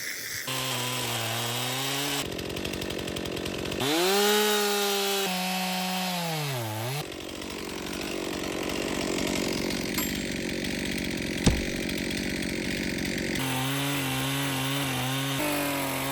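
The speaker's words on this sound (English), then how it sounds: "I really hope that my chainsaw can reach all the way through that" A chainsaw cuts through a standing tree trunk during a felling cut, its engine revving and bogging in long wavering surges with steady grinding through the wood. There are no voices.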